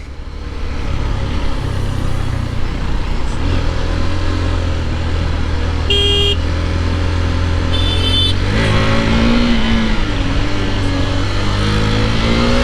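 A Benelli 600i and a KTM RC 390 race each other, their engines droning loud and steady, revving and pulling hard at close range for the whole stretch, with no talk.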